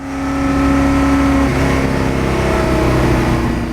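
A 1966 Ford GT40 Continuation engine revs hard and loud from start to finish with no break, its steady roar dropping in pitch partway through as the car is driven fast.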